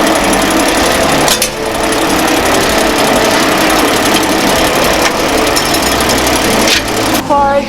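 A noodle-making machine running in a processing workshop, with a dense, fast mechanical clatter and whirring throughout. Brief louder knocks break in now and then.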